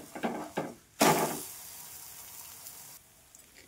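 Pumpkin pancake batter sizzling in a hot pan as it is flipped, a few soft taps and then a loud burst of frying hiss that slowly fades to a quiet sizzle.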